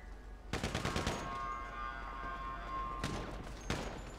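Minigun fire in GTA V, two long sustained bursts of rapid shots, close and loud, with a quieter rumbling gap between them and a short third burst near the end.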